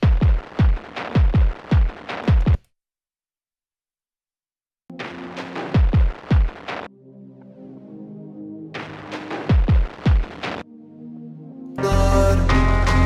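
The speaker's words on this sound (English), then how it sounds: "And there are these very distorted drums too, which sound like this." Heavily distorted drums from an electronic track hit in short, punchy bursts, broken by a stretch of silence and by passages of sustained pad and chord tones, ending in a dense, loud full mix.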